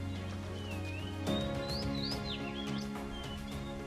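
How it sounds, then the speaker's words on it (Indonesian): An oriental magpie robin sings in the wild, bright varied whistled phrases rising and falling in clear, close succession over a low steady background hum. "Bentuk burung kacer ada kemiripan dengan burung robin Eropa dalam kekhasan suara kicauannya."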